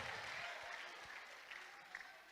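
Congregation at an ADEPR church service clapping steadily in a dense, continuous round of applause, fairly close and even throughout with no one speaking.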